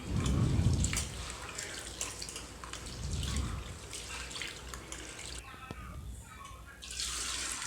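Water is poured and swirled over urad dal lentils in a bowl, with soft sloshing and dripping, quiet and close.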